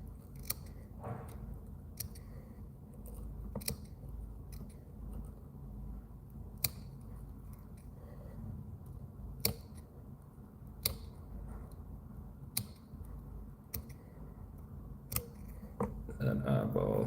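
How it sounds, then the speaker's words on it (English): Scissors snip repeatedly while trimming fly-tying materials on a hook, a dozen sharp clicks at uneven intervals over a soft steady background, close and fairly quiet. "Now we can trim it out,"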